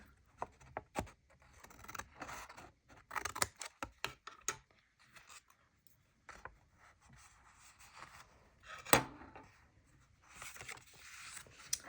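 Paper being cut with scissors while making a Christmas countdown craft, a series of short, close snips and rustles coming in irregular bursts with quiet gaps between them.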